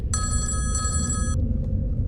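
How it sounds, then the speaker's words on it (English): A telephone bell rings in one long trill that stops abruptly, heard over a low continuous rumble. "It's a phone ringing."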